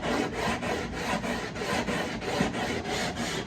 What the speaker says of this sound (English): So I'm just gonna gently sand over this area here, just to create that angle that I need